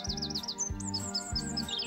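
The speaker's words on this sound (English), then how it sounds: "All the birds are singing." Bright chirping birdsong from a children's animated TV series, several quick repeated tweets and trills over a steady low hum and soft rhythmic thumps.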